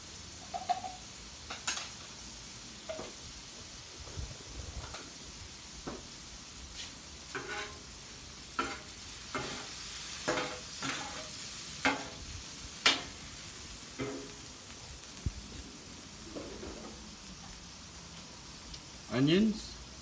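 Garlic sizzling on a Blackstone flat-top griddle for Filipino shrimp pancit, a steady faint fry with scattered clicks and scraping taps of a utensil throughout, ending in a louder scrape.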